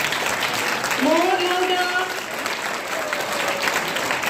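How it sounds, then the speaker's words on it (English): A school audience on a traffic-rules and road-safety session claps steadily and loudly throughout, while a speaker's voice rises over the applause near the start. "So you can express this by the voice of your claps."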